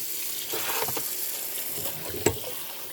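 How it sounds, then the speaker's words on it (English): Fresh cranberries being rinsed under a running kitchen tap, a steady close hiss of flowing water broken by soft splashes and one sharp knock near the end, with no talking. "The first thing we need to do is wash our berries."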